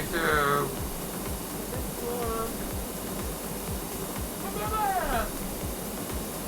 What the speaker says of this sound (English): I can still hear the water